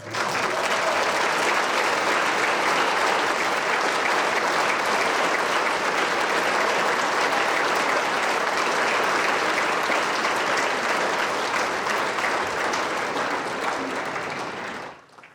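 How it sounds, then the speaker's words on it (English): A large fundraising dinner crowd at the 2022 Minnesotans Military Appreciation Fund event gives sustained applause, a thick, even roar of clapping hands lasting about fourteen seconds before cutting off abruptly. "Let's have another round of applause for Major Mokosso."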